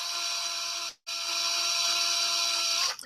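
A miniature being drilled for pinning: a steady high-pitched whine of a small drill, cutting out briefly near one second then resuming, continuous and close, alone without talk.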